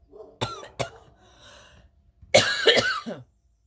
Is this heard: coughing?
yes